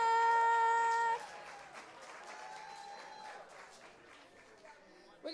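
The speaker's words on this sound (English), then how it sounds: "give a round of applause for us coming back" Crowd at a live storytelling event at One World West applauds in a steady, moderate wash after a brief tonal opening, with voices mixed in under the clapping.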